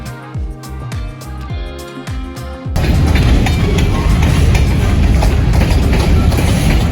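A train rolls by close at the Terrace, BC station, opening with rhythmic clanking and clattering wheel beats, then swelling into a loud, steady roar of cars rushing past.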